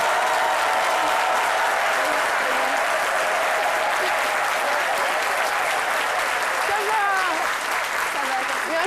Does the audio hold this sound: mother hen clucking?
no